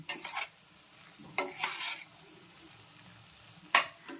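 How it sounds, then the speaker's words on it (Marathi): A tempering of garlic and chilli sizzling in hot oil while being stirred, three distinct scraping stir strokes over a constant quiet hiss, close up with no speech. "आणि इकडे आपली फोडणी होती फोडणीला थोडासा हलवा जेणेकरून एक जागीच लसूण आणि मिरची जळणार नाही"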